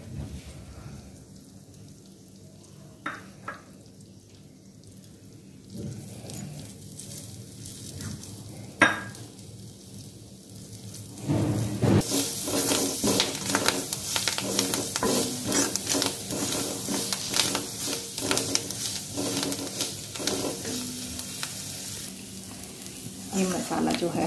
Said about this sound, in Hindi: इसको हम अच्छे से फ्राई करेंगे, लेकिन हमें मसाले जो हैं वो जलाने नहीं है।